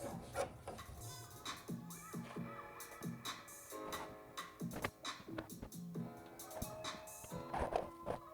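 Steel wool soaked in mineral spirits is scrubbed over a mid-century modern wooden dresser, making quiet, close, rhythmic rasping and scratching strokes with small knocks throughout.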